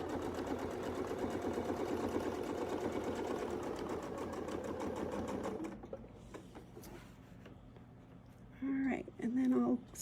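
A sewing machine stitches a quilt border guided by a Westalee template, running in a steady close whir for about six seconds before stopping, then a quiet pause and someone speaking briefly.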